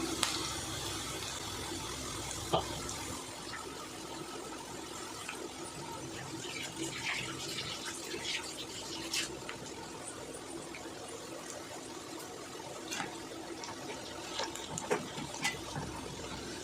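Onion pakoda fritters frying in hot oil at home, with a steady, close bubbling hiss and crackle throughout, a few brief clicks and pops scattered over the sizzle, no voices.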